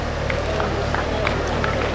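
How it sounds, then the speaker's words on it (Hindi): Audience at a statue unveiling ceremony in India applauding, a brief stretch of dense clapping over crowd murmur. "उन्हें तालियां बजाएं आप सब लोग"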